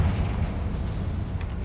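The Confringo fire spell from Hogwarts Legacy bursts in a single loud, deep explosive boom that rumbles on as a heavy low roar.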